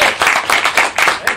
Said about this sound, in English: I like the way you clap.